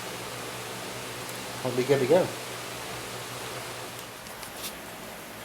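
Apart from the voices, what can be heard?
background fans running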